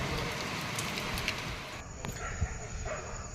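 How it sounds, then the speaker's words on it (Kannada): Heavy night rain pours down in a steady, moderately faint hiss of drops, with a few brief knocks and clicks on top. "ತುಂಬ ಮಳೆ ಬರ್ತಿದೆ."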